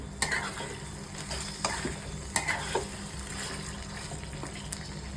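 Paneer cooks in a pan with a gentle, steady sizzle, punctuated by a few sharp spoon knocks and scrapes, close by and without talk.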